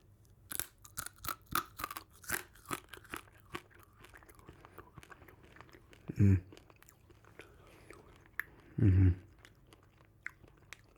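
Dried coffee beans are chewed close up in a quiet room, giving a string of sharp, brittle crunches and cracks that slow into softer grinding, with a couple of heavier muffled thuds later.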